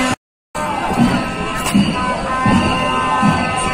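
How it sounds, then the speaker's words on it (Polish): Protesters waving national flags shout in a Sofia street during an anti-government protest, a loud, dense crowd roar with repeated rhythmic chanted bursts after a brief dropout at the start. "coś krzyczą, nie rozumiem co."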